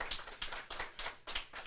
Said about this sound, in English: Round of applause for all of them.